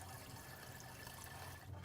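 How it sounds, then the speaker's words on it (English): Cold water running from a tap over eggs in a pot, a steady, soft, continuous rush at low level without pause. "turn on the cold water, and let them run under some cold water"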